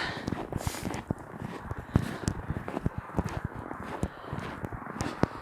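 Hooves clip-clop in an irregular series of sharp knocks, as if several horses are walking nearby over a quiet background.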